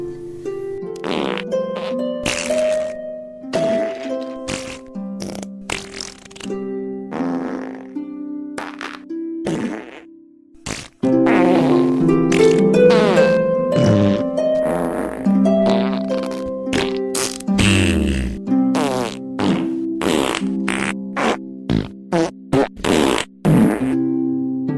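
A long run of comic fart noises, many squelchy, tonal blasts of varying pitch and length played back to back, getting louder and denser in the second half, with no talking.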